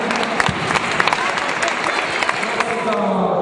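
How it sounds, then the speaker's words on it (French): An audience at a religious light festival applauds steadily, a dense wash of clapping hands with a few sharper claps standing out, while a voice speaks over it. "Alors, on l'applaudit."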